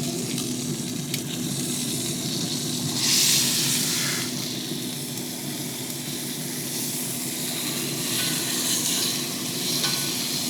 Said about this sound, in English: Let's dump all this on top of our sizzling fish